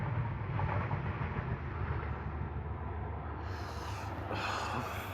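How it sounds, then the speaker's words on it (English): A train passes close by, a steady loud rumble and clatter of rail cars filling the whole stretch, with no talking. "Hello, train."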